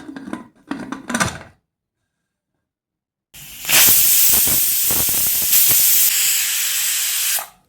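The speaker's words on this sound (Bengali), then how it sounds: "চারটে সিটি দিয়ে প্রেসারের ঢাকনা খুললাম।" Pressure cooker holding peeled raw mangoes in water lets out a loud, sustained steam whistle of about four seconds, with a short burst of clattering and faint kitchen sounds before it.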